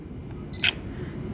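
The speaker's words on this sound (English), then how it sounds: "you'll hear the shutter go" A camera shutter fires once, giving a short, sharp mechanical click with a brief high tone just before it, close and clear over quiet room hiss.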